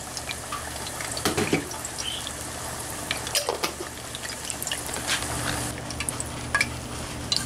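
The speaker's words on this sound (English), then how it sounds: "we're going to just give that a stir in there" Rice being stirred in a pot for bacalao over coals, a scraping, wet shuffling with soft sizzle beneath and a few sharper clinks, close and continuous.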